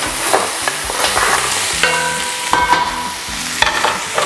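Onions sautéing with crab in a pan for chili garlic crab, sizzling steadily while a utensil scrapes and stirs in irregular strokes, close and fairly loud, with a rhythmic background beat.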